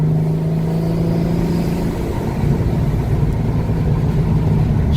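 Turbocharged car engine pulling hard under boost, a loud, sustained drone with a steady engine tone heard from inside the cabin, shifting slightly in pitch midway.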